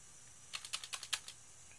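Quiet, quick keystrokes on a computer keyboard, about eight clicks in a brief burst, close by in an otherwise silent room.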